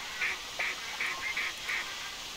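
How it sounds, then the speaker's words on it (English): Ducks quacking during a duck hunt in the game theHunter Classic, six short nasal quacks spaced about every half second, fairly distant over a faint steady background with no talk. "I can hear the barking quack over there."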